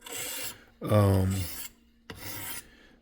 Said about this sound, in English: I'm about to do the last diamond stone, and it's the 800